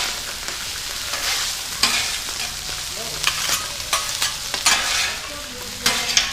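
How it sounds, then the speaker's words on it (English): Meat and vegetables fry in a pan for egg roll in a bowl while being stirred vigorously, a continuous sizzle punctuated by repeated scraping strokes and light knocks. "Stir it up real good."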